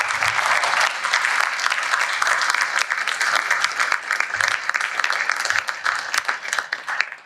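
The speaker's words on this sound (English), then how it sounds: "So let's give these guys a round of applause." Audience applause for school board candidates at a public forum, loud continuous clapping from a room full of people lasting throughout, with scattered individual claps standing out.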